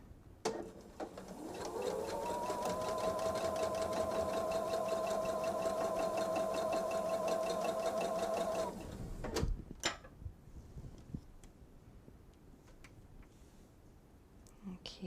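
A sewing machine stitching fabric for a bench pillow whirs up to speed and runs steadily for about seven seconds, then stops, followed by faint handling clicks and quiet room noise.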